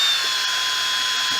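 A power drill spins continuously while setting rivets into the plastic of a cheap carbon fiber front bumper lip on a 2019 Nissan GTR, a steady, close, high-pitched whine with no talking.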